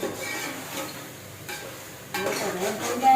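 Potatoes frying in oil over a low flame, a soft sizzle mixed with stirring and utensil scrapes against the pan, close and brief.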